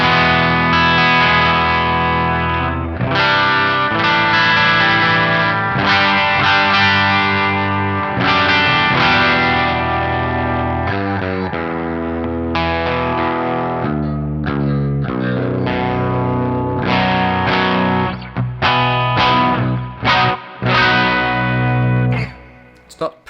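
Seven-string electric guitar played through the bridge pickup on a fairly clean setting, slightly out of tune, with locking tuners: close, loud strummed chords and ringing notes in a continuous phrase with brief pauses, no talking.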